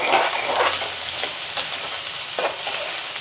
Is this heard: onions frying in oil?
yes